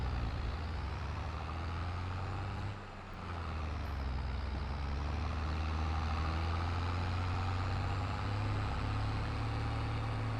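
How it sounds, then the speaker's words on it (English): A heavy vehicle engine runs with a deep steady hum in Farming Simulator 22, dipping briefly as a manual gear shift is made, then settling back into a constant drone. "This manual gear shifting is so nice to hear."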